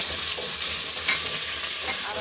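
Onions crushed fine in a mortar are frying and being stirred in a pan as they brown, a steady close sizzle with scraping strokes throughout, no voices.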